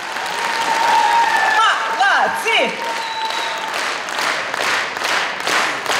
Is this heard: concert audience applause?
yes